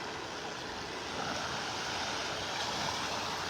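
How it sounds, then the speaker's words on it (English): Outgoing tide water rushes fast through a beach pass in North Naples, a steady loud broadband roar with no breaks, blended with wind. "This water is really moving fast out the pass."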